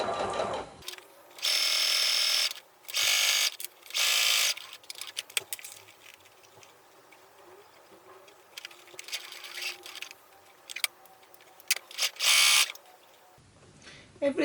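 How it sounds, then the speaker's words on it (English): A sewing machine stitches a single-strip binding onto a custom quilted book cover in bursts, loud runs of whirring stitches separated by pauses and quieter handling noise. "And then again, I will just sew."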